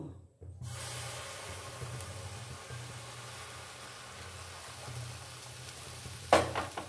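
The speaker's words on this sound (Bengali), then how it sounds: "এবারে আমি এর মধ্যে এই যে দুধটা অ্যাড করে দেব" Milk poured into a frying chana dal mixture in a pan, a steady hiss and sizzle throughout with soft stirring scrapes and a brief louder clatter near the end.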